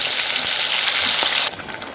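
Chicken pieces sizzling loudly in a pan as ginger, garlic and onion paste goes in, a dense close frying hiss that drops suddenly in intensity partway through.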